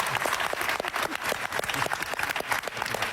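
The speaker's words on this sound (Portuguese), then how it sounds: "mais palmas para ele, faz favor" Applause from a studio audience on a Portuguese television talk show, a fairly faint, brief burst of clapping with distinct individual claps, steady for its short length.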